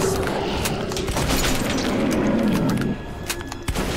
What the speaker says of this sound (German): Ich hab mal geschossen.